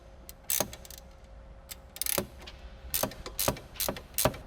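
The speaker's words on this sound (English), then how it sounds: "wrench here and an 8mm socket to hold the end link in place while you loosen things up." Ratchet wrench with an 8mm socket loosening a tight strut end link on an S550 Mustang, giving several bursts of quick, close metallic clicking separated by short pauses.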